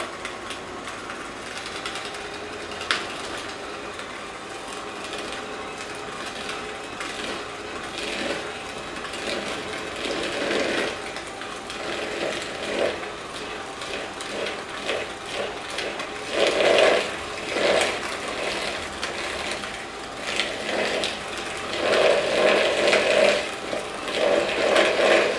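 Electric mixer beating chocolate chip cookie dough as flour is worked in, a continuous whirring motor with a rough churning texture that grows louder in the latter half.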